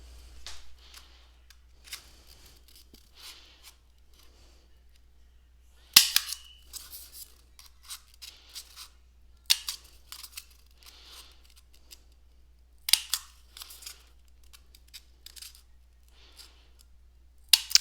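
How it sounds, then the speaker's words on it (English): Sharp, crisp clicks of a handheld hole puncher punching holes just below the rim of a paper cup, coming in separated bursts with quiet pauses between, close and fairly loud, with no talking. "I need to take one of the paper cups and punch 4 holes just underneath the rim of the paper cup"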